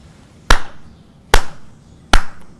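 Three sharp, evenly spaced hand claps ring out alone and fairly loud, each a single crisp slap with a brief decay and quiet gaps between.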